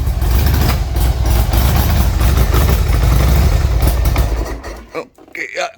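A 1995 Harley-Davidson XLH1200 Sportster engine idles loud and close while warming up, a steady deep rumbling throb that drops away near the end, leaving softer bumps.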